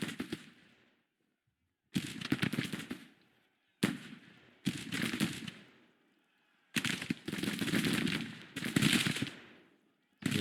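Bursts of massed musket volleys and rattling gunfire from the Civil War strategy game Grand Tactician come in several loud clusters separated by short quiet gaps, with some faint voices underneath.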